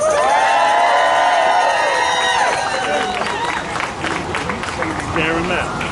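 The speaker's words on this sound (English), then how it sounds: "I want to give a round of applause for Councilmember Carlina Rivera." A crowd at a rally cheers and whoops with high shouted voices, then shifts into clapping mixed with scattered calls, loud and close, celebrating a city councilmember.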